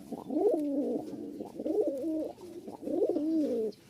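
A male pigeon in a pair kept for sale coos up close in three rhythmic, throaty bursts of rolling calls, clear and alone with no talk.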